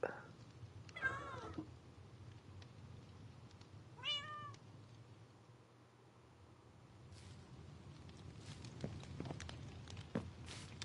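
A cat in Minecraft survival mode lets out two distinct meows a few seconds apart, fairly quiet against a low background hum, followed by soft clicks and shuffling sounds.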